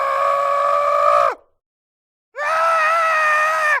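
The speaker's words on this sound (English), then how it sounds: "the screaming goat makes funny noises" Screaming goat in Minecraft lets out two loud, drawn-out nasal screams separated by about a second of silence, each harsh cry holding steady before cutting off.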